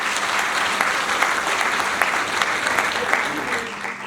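An audience applauds at a formal award ceremony in India, with sustained, dense clapping that stays loud and steady throughout.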